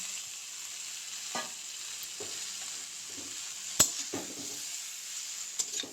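Fish heads added to a pan of cooked pumpkin and stirred, with a faint, soft sizzle, a few scattered spoon knocks and one sharp clank, nearby and without speech.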